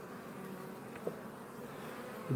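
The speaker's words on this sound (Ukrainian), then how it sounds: "Зараз будемо дивитися, що в цьому зимувалому вулику робиться" Honeybees in an overwintered beehive give a steady, low buzzing hum heard close up, with a couple of faint knocks over it.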